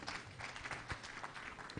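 An audience applauds at a live meeting between a Tanzanian minister and pharmaceutical industry stakeholders and investors. The clapping is faint and distant, a soft, steady patter throughout.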